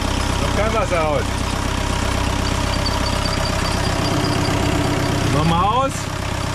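Diesel engine of the sailboat Limelight idling in Mexico after its water pump impeller was replaced, a steady, loud, low droning rumble that runs throughout, with brief voices talking over it twice.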